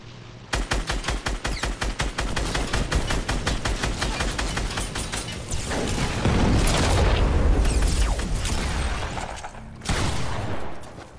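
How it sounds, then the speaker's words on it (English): Rapid automatic gunfire from the video game Fortnite rattles off in a long, steady burst, followed by heavier booming and shattering blasts, loud and close with no talking. "Now who was shooting at me?"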